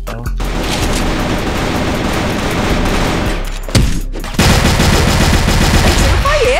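Dense automatic gunfire from the online shooter CrossFire 3.0 in a bomb-defusal match, rattling loudly and almost without pause, with a short break before bursts resume.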